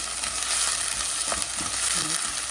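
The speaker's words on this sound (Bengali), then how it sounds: "এখন আমি রান্না করতে আমি পেঁয়াজটা একটু ভেজে নিচ্ছি" Onion frying in a hot pan: steady, close sizzling, a continuous hiss with a few soft stirring sounds.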